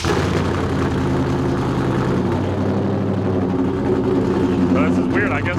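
Chevy Apache short-bed truck engine with a lopey cam idling close by, a loud, rough rhythmic chop rumbling continuously, with a person talking over it.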